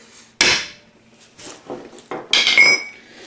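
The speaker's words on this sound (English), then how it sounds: "I'm going to punch these alignment pins out right here" A chisel is used to punch alignment pins out of a Thunderbolt A2-4M blower, producing a few loud, close metallic clanks and knocks separated by pauses, ending in a ringing metal hit.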